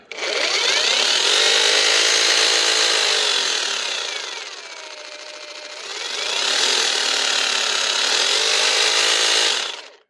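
A Parkside Performance X20V Team cordless jigsaw saws through wood, a loud close buzzing cut that drops away briefly midway and then resumes at full strength before stopping.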